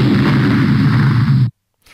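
A PowerPoint 2016 explosion transition effect plays a loud, rumbling boom. The blast holds steady for about a second and a half, then cuts off abruptly into silence.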